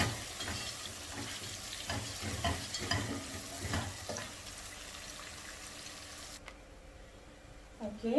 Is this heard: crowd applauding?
no